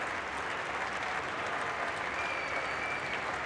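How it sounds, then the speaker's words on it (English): A large cricket crowd at an Australia versus India Test match gives a standing ovation to the young Indian batsman Sachin Tendulkar, dense sustained applause filling the ground at a steady, loud level without pause. "A very good ovation from the crowd for the young Indian batsman."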